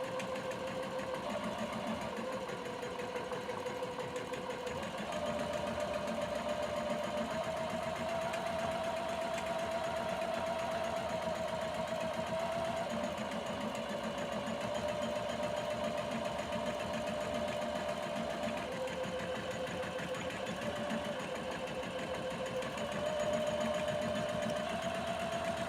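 A Janome Memory Craft 230e sewing machine stitching steadily, a continuous motor whir with rapid needle clatter that shifts slightly in pitch as it runs, close and alone for the whole stretch.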